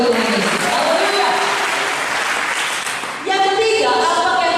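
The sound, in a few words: congregation applause in a church service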